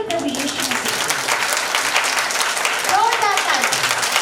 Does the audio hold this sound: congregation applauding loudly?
yes